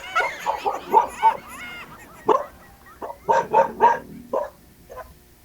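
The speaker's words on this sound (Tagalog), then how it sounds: "Tumahol yung aso." A dog barks and yips in a series of short, close bursts with brief pauses, some sounding whiny, in an otherwise quiet room.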